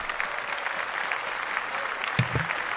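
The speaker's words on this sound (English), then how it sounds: "can I just give a round of applause to Too Comfortable?" A small group claps in a short round of applause, fairly faint and steady, with a sharper knock near the end.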